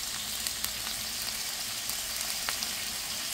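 Chicken tandoori fries in a frying pan, giving a close, even sizzle with scattered small pops and crackles throughout a short stretch, no voices over it.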